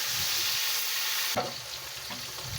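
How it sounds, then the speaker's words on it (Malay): Fish fries in steady hot-oil sizzling that fills the whole stretch, with a soft clink or scrape partway through, close and fairly loud. "Goreng sampai habis ikan tu ya."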